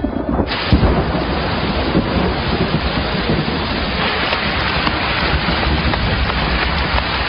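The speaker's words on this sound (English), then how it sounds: "the cloudburst after he'd gone had us scampering for cover" A thunderstorm cloudburst lets loose dense, heavy rain that roars steadily throughout, with thunder rumbling underneath and occasional wind buffeting the microphone. No voices are heard.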